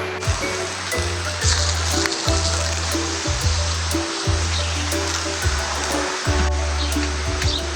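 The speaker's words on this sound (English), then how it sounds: "Let me go turn the water on." Garden water set to a mist sprays over freshly sown sunflower, zinnia and cosmos seeds, a steady loud hiss with repeated low pulsing thumps from the spray, no talking.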